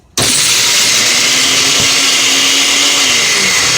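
An electric blender in a glass jar chops Puerto Rican-style sofrito ingredients, starting abruptly and running as a loud, steady, high-pitched whir with no talk.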